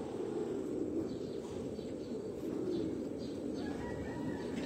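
Pigeons in a racing loft give soft low cooing over a steady murmur of the flock, continuous and fairly close, with no talk.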